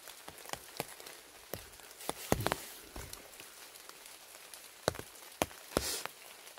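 Rain falls on a rainy day at a bark-roofed house in Samcheok, with scattered sharp drips and taps striking nearby surfaces over a faint, soft wash.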